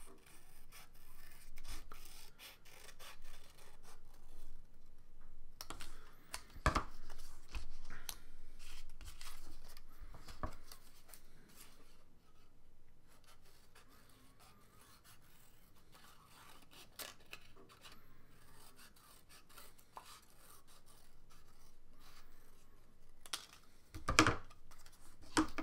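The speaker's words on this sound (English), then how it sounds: "And so I'm just gonna cut, maybe this time not so much circles, but maybe more like ovals" Scissors snipping paper ovals for a collage at an art lesson, a quiet, close run of rasping cuts and rustles with scattered sharper snaps, broken by a calmer stretch in the middle, no voices.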